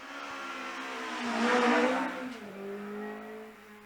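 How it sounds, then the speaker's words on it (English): A race car engine at the Shelsley Walsh hill climb revs hard on the start line and surges as it pulls away, rising to a loud peak before settling into a sustained roar. "Raising the revs on the start line, and off he goes now."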